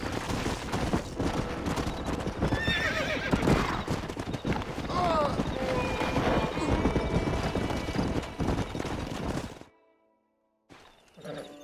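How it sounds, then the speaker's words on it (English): Horses in a Western video game, a stallion among them: steady clip-clopping hooves with several sharp neighs and whinnies, fairly close and loud, before the sound drops away into near silence near the end. "We got some fine horses."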